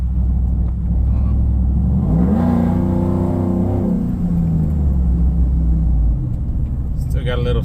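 A Chevy Silverado engine heard from inside the cab under a steady low rumble, swelling into one clear rev that rises and then falls back to idle, fairly loud and close.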